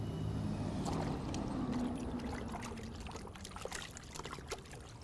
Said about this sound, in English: So I'm gonna stick it in the water and then I'm gonna wring it out